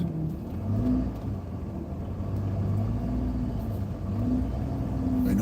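A power steering pump on a diesel vehicle groans in repeated wavering tonal swells over a steady engine rumble, heard from inside the vehicle.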